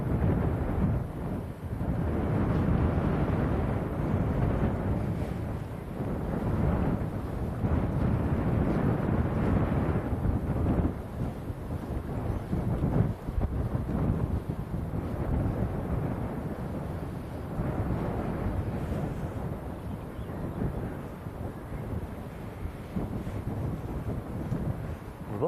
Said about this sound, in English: Also got the white Embraer 190, I think it is, operating for KLM. I think it's an Eastern Airways. It's taxiing out now.